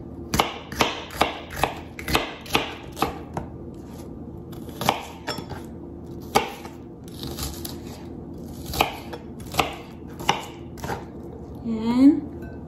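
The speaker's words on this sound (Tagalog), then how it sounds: "Maghiwain natin yung sibuyas" Onion being chopped with a knife on a board, a steady series of sharp, close taps in quick clusters with short pauses, ending with a brief sizzle-like scrape; no talk over it.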